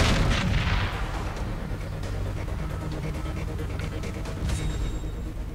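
Gunfire in the video game Far Cry 3: a dense run of shots and heavy booming blasts, loud and close, with a burst at the start and more firing going on throughout.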